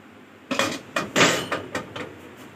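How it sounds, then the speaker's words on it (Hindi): Pressure cooker being opened after cooking meat, a run of sharp metallic clanks and knocks from the lid and handle, about five distinct hits over a couple of seconds, close and moderately loud. "अब हम अपना कुकर खोलेंगे"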